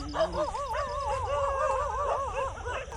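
Several dogs at a forest campsite make wavering, howl-like whining and yipping calls, fairly close and continuous, over a low background rumble.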